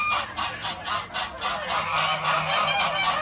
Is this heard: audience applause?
no